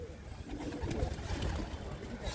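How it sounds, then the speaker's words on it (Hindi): A pigeon coos softly and faintly outdoors over a steady background hum, in a short low burst. "ये रहा हमारा कमग्गर कबूतर,"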